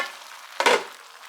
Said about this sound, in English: Let me stir it up a little bit.